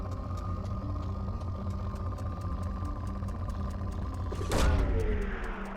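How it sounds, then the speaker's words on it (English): A planetary probe launches during planet scanning in the video game Mass Effect 2, a sudden loud whooshing burst near the end that cuts through a steady humming engine-like background drone, then fades away. "Probe launched."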